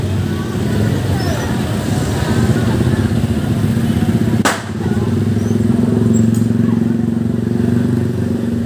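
A motorcycle engine runs close by at a busy afternoon market in Dongko, Trenggalek, a steady buzzing drone amid crowd chatter and clatter, with a sharp knock midway.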